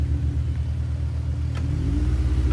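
Off-road vehicle engine on a dirt trail, idling low then revving up as the bumper nudges into the dirt, a steady close rumble that swells louder toward the end.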